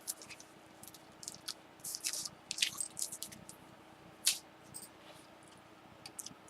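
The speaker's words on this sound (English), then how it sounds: "Take a bite of Slim Jim." Someone biting into and chewing a Slim Jim meat stick up close, with irregular wet crunches and squishy chewing bursts, one sharp bite standing out, no talking.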